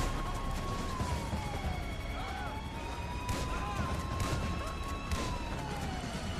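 In a GTA V LSPDFR police chase, a police siren wails in steady rising and falling sweeps, with a few sharp bangs of gunfire breaking through in the second half, all fairly quiet.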